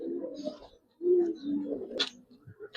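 Silver Giribaz pigeons coo close by in a few soft, low throaty phrases with short pauses between them, plus a brief higher rustle or flutter.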